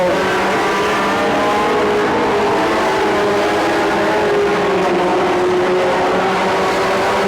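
Mini stock race cars roar around Petaluma Speedway with a Dodge Colt in the lead, loud sustained engine drone with shifting pitch as the cars push on, no talk.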